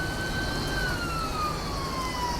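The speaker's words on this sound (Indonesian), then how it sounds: "Nah, untuk polisi kita dengarkan sirinenya." A police car siren sounds in Euro Truck Simulator 2 traffic, a steady, slowly falling electronic tone that rings alone and loud over a constant engine rumble.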